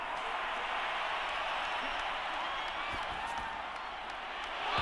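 Crowd applause and cheering from a stadium audience in the Madden 22 football video game, a steady, dense wash of clapping and crowd noise that holds evenly throughout and swells slightly at the end.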